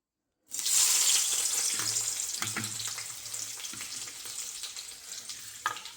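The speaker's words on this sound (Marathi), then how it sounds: "आता तेल पण गरम करायला ठेवलेलं आहे. आता कांदा टाकूया." Onion dropped into hot oil bursts into a loud, steady sizzle that stays close and fills the whole clip, with a few soft scraping knocks of a utensil underneath and no voices.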